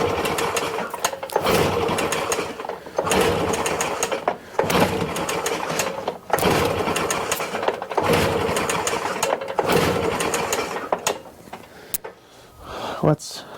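Stihl BR800X backpack blower being pull-started on choke, with repeated rhythmic bursts of recoil cranking and engine sputter, several pulls close by, a voice talking briefly near the end.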